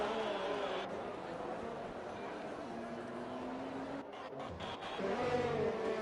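Race car engines in an F2 racing video game on PS4, at Zandvoort during qualifying, drone steadily with rising revs, heard under continuous commentary talk.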